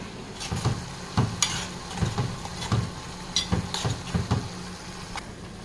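Coarsely ground masala mixture fries in a sambar pot, a low sizzle under repeated clinks and scrapes of a spoon stirring against the metal pot, close by.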